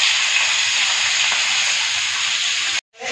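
Kerala-style mackerel frying in a pan gives a steady, close, loud hiss of sizzling oil that cuts off abruptly near the end.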